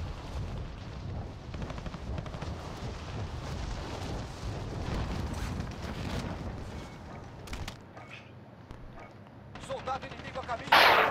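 Gunfire in Call of Duty: Modern Warfare crackles in rapid, dense bursts like machine-gun fire with heavy booming impacts. It stays loud throughout, with a brief lull before sharper shots near the end and a voice faintly mixed in.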